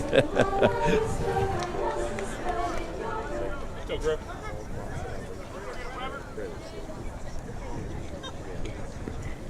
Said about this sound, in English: Pretty good crowd out here tonight.